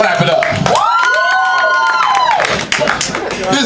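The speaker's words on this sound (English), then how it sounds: "If you curse a lot, clap it up." Clapping and cheering from a crowd at a poetry show, loud and close, with a long sung or shouted tone rising over the claps midway and voices mixed through.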